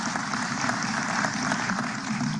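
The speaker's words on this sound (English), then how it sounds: "Y'all come on and clap for me." Audience applause at a memorial gathering for a former Atlanta City Council president lying in state, a dense, steady wash of clapping from a crowd that fills the space for the whole stretch without voices.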